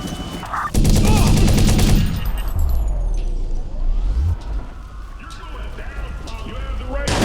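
Gunfire in a Watch Dogs police shootout: a loud dense burst of automatic shots in the first seconds, followed by rumbling engine and vehicle noise, with voices speaking at points.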